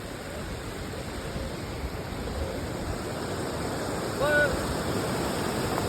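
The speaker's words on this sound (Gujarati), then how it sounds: "અને ચારે બાજુ પાણીનો અવાજ" Steady, enveloping roar of rushing water from an overflowing lake fills the scene, constant and broadband with no break, like a nearby cascade or fast stream.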